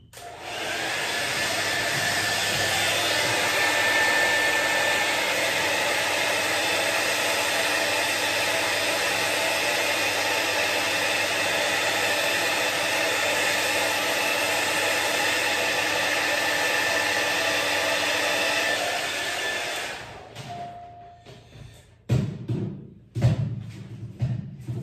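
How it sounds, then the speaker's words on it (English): A hair dryer blows steadily to dry an Iwasaki kamisori straight razor of Swedish steel, a loud continuous whooshing drone for about twenty seconds before it cuts off, followed by a few handling thumps. "Hot water and then a hair dryer."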